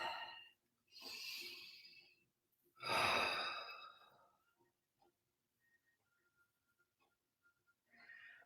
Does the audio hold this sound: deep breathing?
yes